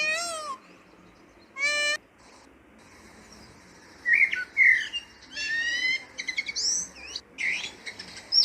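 Bright, high-pitched chirps and tweets from a nest-building bird come in short bursts, with a couple of sharp separate calls early on and a denser run of chirping later over soft background hiss.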